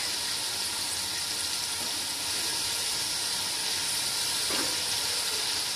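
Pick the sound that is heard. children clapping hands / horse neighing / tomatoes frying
tomatoes frying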